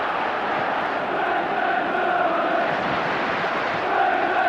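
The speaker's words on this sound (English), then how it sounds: "Listen to this crowd." Football stadium crowd at Manchester United versus Barcelona in a 1994-95 Champions League group match, a steady loud roar of many voices, broad and distant, swelling slightly near the end.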